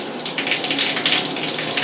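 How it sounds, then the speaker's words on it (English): A hand-held shower head sprays water in rain mode, a steady close hiss of falling droplets that runs evenly through the whole moment, with no talking. "we're going to go ahead and turn it on by just pushing our start button. And this is rain mode."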